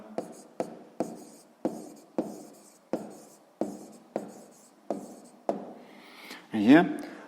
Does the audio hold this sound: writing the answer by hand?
yes